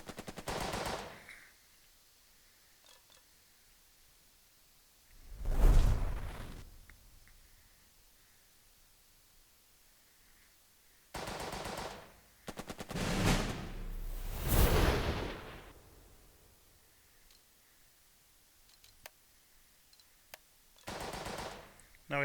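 Booming 105 millimeter artillery shots ring out in the Burden of Command war game, several separate heavy blasts with long rumbling tails spaced apart by quiet gaps, a burst of closely grouped rounds in the middle.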